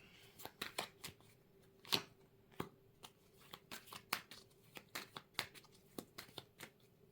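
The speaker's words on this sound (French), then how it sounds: "On va mettre 3 cartes." Tarot cards dealt and laid out on a table, a quiet series of crisp snaps and soft slides, some sharper flicks among them, irregularly spaced and close by with no talking.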